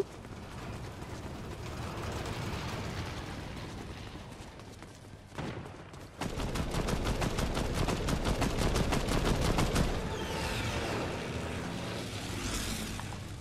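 Gunfire in the Fortnite battle royale: scattered shots, then a rapid burst of evenly spaced automatic fire in the middle, fairly close, over a low ambient game bed.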